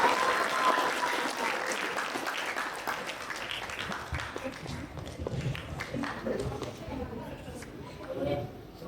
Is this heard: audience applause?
yes